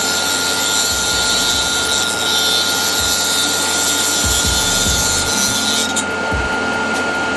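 A small tool cuts and rasps through an FRP plate on a VZ-chassis Mini 4WD body shell, trimming clearance for the tires. The close, continuous scraping runs in short repeated strokes and ends with a few clicks.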